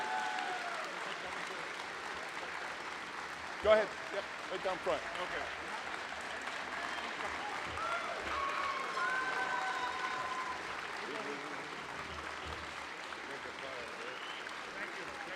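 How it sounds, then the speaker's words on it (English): An induction ceremony crowd gives a sustained round of applause for the class of 2022 inductees, steady clapping throughout with a few brief spoken directions over it. "let's give the class of 2022 a final round of applause"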